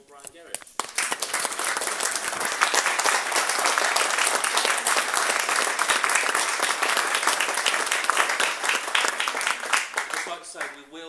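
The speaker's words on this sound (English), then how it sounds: "can we give a round of applause for Brian Gerrish?" A crowd at a Kent Freedom Movement event applauds Brian Gerrish, with dense, steady clapping that swells quickly, holds strong for about ten seconds, and then tapers off.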